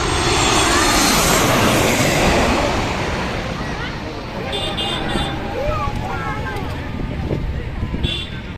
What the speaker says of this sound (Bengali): এই বিমানটি হচ্ছে বোয়িং 737 ম্যাক্স এই মডেলের বিমান